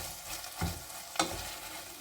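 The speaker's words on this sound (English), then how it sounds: "Make sure that butter melts nicely into the onions." Onions cooking in melted butter in a pan give a steady, soft sizzle, with two brief louder scrapes of a spoon stirring them through; there is no talking.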